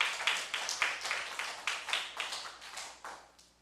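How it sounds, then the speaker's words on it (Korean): Church congregation clapping in steady, repeated rhythmic claps during a Sunday daytime worship service, moderately loud and fading slightly toward the end, with no talking over it. "하나님께 영광의 박수 돌리겠습니다."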